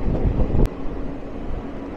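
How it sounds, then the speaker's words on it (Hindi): The Flying Ranee Express, an old non-AC double-decker train, rolls into Andheri railway station in Mumbai. A loud, rumbling, wind-buffeted roar with a brief sharp bang partway through settles into a lower steady drone. "और यह आया अपनी ट्रेन का सबसे पहला हॉल्ट अंधेरी रेलवे स्टेशन।"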